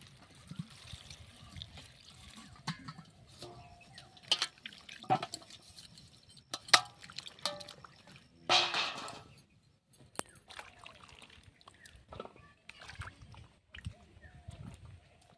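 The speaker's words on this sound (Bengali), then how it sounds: "এখন আমি ধুয়ে নেব।" Cut potatoes and beans washed in a bowl of water, with intermittent splashing, sloshing and dripping as hands move the vegetables, a few louder swishes among quieter trickles.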